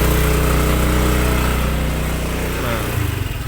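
An automatic scooter-style motorbike engine on an uphill slope stays loud and close as the rider revs it steadily, and the pitch wavers slightly near the end.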